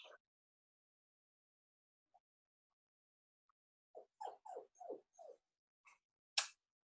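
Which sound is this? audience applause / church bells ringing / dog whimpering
dog whimpering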